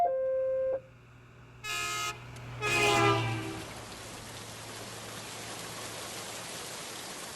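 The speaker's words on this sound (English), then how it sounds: "The rain is fluctuating its strength" Rain falls as a steady, broadband hiss in a horror audio drama, rising after a few loud, tonal, horn-like blasts at the start.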